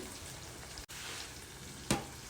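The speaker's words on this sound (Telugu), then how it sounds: "ఆయిల్లో వేసుకొని మంచిగా వేయించుకోవాలి" Masala frying in oil over a low flame for a Telugu fish curry gives a soft, steady, faint sizzle, broken by a single brief tap or clink near the end, with no talking.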